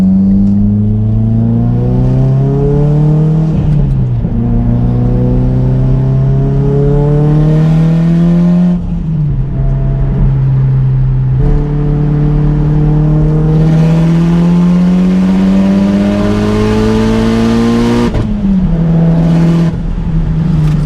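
A Mitsubishi Evo X fitted with a 6266 Gen 2 turbo accelerates hard, its engine pitch climbing through each gear with sharp shift breaks, loud and close throughout with a whooshing turbo edge.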